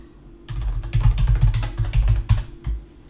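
Rapid typing on a computer keyboard, close and fairly loud, with uneven bursts of keystrokes and a couple of heavier key presses near the end.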